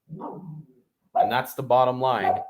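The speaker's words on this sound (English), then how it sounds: "sorry about my dogs" Dogs bark close by in a few loud, harmonic bursts in quick succession, right after a brief spoken line.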